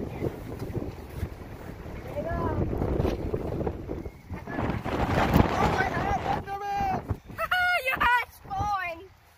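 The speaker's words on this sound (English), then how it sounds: "It's windy." Gusty wind at an outdoor skate park buffets the microphone in a steady, loud rumble, with people talking and calling out over it, and a few sharp higher voices near the end.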